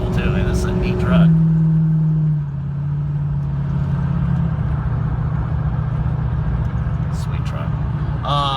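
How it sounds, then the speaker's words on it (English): A truck engine idles steadily at close range, a low continuous rumble that briefly revs up near the start and then settles, with a few faint bird-like chirps over it. "This thing sounds cool too, and this is a neat truck."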